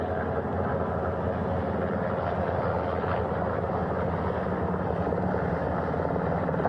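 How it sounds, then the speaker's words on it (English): A helicopter carrying Artemis II crew hovers near a ship's flight deck at sea, a steady loud rotor thrum with a broad engine whine, constant and close throughout. "The first helicopter coming in."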